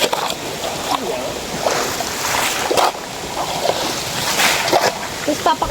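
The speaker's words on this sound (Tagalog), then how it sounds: "tayo sasalok ng tubig para pang unload dun sa mga damit" River water is scooped and splashed by hand while clothes are washed outdoors in a rural province, sloshing in irregular bursts close by as people talk over it.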